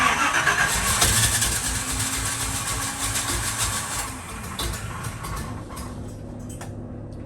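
Engine of a Chevy C20 pickup truck turning over and catching, a loud continuous mechanical roar close by that holds steady for several seconds before easing off and fading toward the end.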